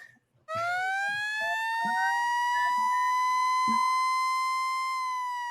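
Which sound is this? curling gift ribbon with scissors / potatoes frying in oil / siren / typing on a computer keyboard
siren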